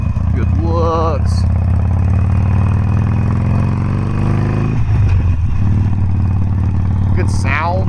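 A Harley-Davidson Sportster Forty-Eight motorcycle rumbles loud and close with a steady low engine drone, revving up and settling back, while short chirps and clatter sound over it.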